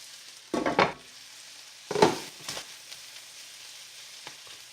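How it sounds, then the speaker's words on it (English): Frozen corn hits a hot frying pan for a shepherd's pie filling, giving two short bursts of sizzle and clatter followed by a quieter hiss and a few faint ticks, close and without talk. "I added the frozen corn to the center of the pan to let it heat up a little bit before mixing it with the rest of the ingredients."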